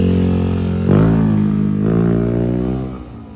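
A 195cc motorcycle engine idles, then revs sharply twice during an owner's test ride, each surge swelling and settling back before the sound fades near the end.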